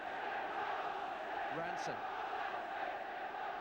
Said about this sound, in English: Home crowd raising the atmosphere